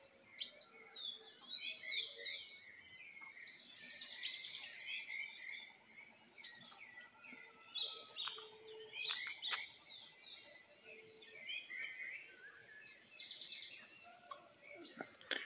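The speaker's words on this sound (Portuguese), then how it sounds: "passarinho demais aí pra dentro do mato." Many small birds chirp and tweet busily from dense bushes after rain, high-pitched calls overlapping continuously at moderate distance, with a faint voice now and then.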